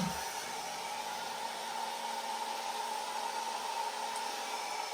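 A Snapmaker 2.0 A350 3D printer running a print gives off a steady, continuous whirring hum with a broad airy hiss, like a fan, constant and unchanging throughout.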